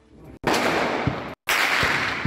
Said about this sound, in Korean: 어디선가 갑자기 울리는 총성